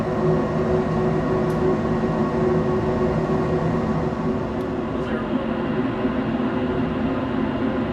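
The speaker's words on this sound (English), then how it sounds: "Looks like our blower just kicked on." A furnace blower fan runs with a steady, loud whooshing hum that holds an even level from start to finish, with no breaks.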